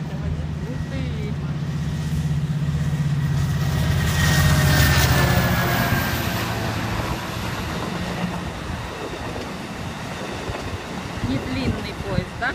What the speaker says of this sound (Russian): Не длинный поезд, да?